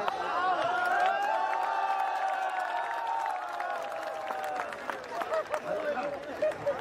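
Audience clapping at a Hindi comedy poetry gathering, a steady wash of applause with scattered cheers and voices, loud and sustained before fading.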